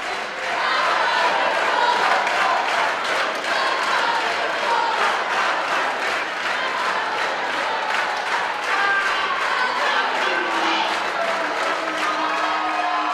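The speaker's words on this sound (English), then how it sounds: "And let's enjoy the crowd again" Crowd roaring and clapping in a gym during a high school volleyball final between Hampton and Exeter-Milligan, a dense, sustained wall of cheers and applause with shouts rising through it.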